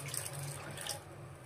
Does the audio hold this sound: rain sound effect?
no